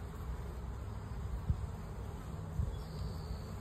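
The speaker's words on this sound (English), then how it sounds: "It was like a little bumblebee flew in there." A bumblebee buzzing close by at the entrance of a honeybee hive, a low steady insect hum that continues throughout, with a couple of brief louder thumps.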